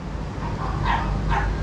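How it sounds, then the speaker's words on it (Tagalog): Dogs barking outside a house at a front door, two sharp barks close by, the second following the first after a short pause, over a low ambient background. "tahol ng tahol yung mga aso"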